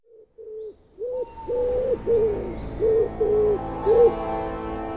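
An owl in a dark forest gives a series of clear, wavering hoots, about eight calls in quick succession, loud and close with short pauses between them and nothing else heard.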